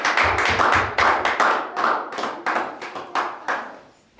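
Members of a church congregation clap in rhythm, sharp clustered hand claps that start loud and close, then gradually thin out and fade toward the end.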